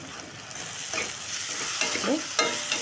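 Corn fried rice ingredients with coriander leaves stirred in a hot pan, a spatula scraping and tossing with a few sharper knocks against the metal over a soft continuous sizzle, no voices.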